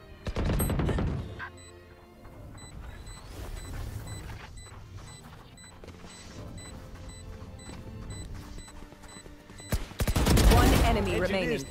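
A swarm grenade goes off in Rainbow Six Siege: a long run of rapid, crackling pops and bursts under clicking game effects, closing with a loud, dense blast near the end.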